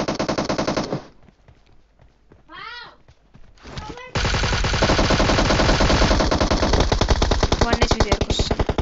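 Rapid machine gun fire in a video game, bursts of dense automatic shots at the start, a short pause with softer noises, then a long sustained loud stream of gunfire.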